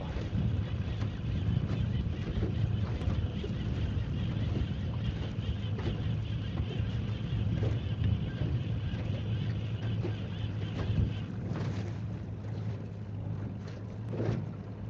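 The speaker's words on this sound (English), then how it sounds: "that wind is just mobbing us around here" Steady wind buffets a boat out on Holter Lake in Montana, a constant broad rumble with gusty swells throughout, no voices, just continuous blustery noise across the water.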